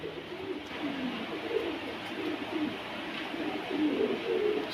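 A Rampuri female pigeon coos in a steady, low, rolling murmur that carries on without a break, close and moderately loud, with no voices over it.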